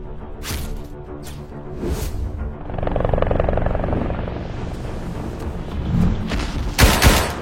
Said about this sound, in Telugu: ఆలియా పరిగెడుతూనే కోపంతో ఒక బాటిల్ బాంబ్ ని హెలికాప్టర్ మీదకి విసురుతుంది